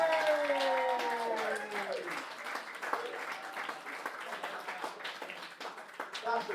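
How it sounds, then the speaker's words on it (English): Wedding guests applaud after a speech, a dense patter of clapping that fades and tails off as a few voices carry through the room. "Give us a round of applause."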